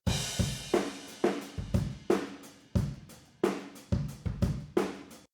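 An uncompressed drum kit comes through a U87 room microphone set about ten feet away, with punchy kick and snare hits in a steady groove, roomy cymbal decay, and no voices.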